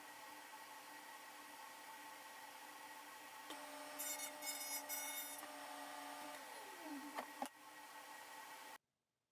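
Power tool cutting grooves into a sheet of plywood, a faint steady whine that rises into a higher-pitched cut for a few seconds and then winds down, heard alone.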